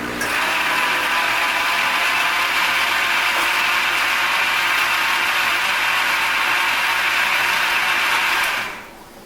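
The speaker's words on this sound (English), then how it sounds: "So I'm just going to blend this real quick." A countertop blender whirs loudly and steadily for about nine seconds, blending homemade elderberry syrup with honey, then winds down abruptly at the end.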